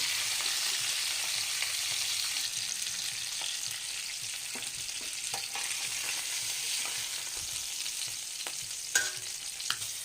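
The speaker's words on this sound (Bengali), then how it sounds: "যত সময় আমার মাছটা ভাজা হচ্ছে" Pieces of rohu fish fry in hot oil for a korma, making a soft, even sizzle with a few light clinks of stirring, close by and without voices.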